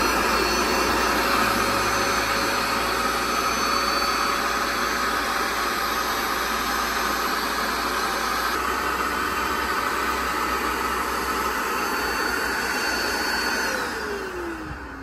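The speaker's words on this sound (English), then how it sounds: "now we'll just use this this Bissell unit and give it another scrub and a spray with some water from this jet" A Bissell upholstery cleaner scrubs the cargo area of a fire-damaged Range Rover L322, giving a loud, steady whining roar of suction motor and water spray that runs unbroken for about fourteen seconds before tapering off at the end.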